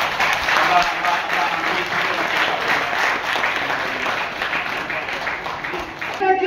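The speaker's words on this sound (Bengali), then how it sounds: "আমরা ওনাকে করতালি দিব যতটা জোরে সম্ভব" An indoor audience at a yoga award ceremony claps in steady, dense applause that carries on evenly for several seconds.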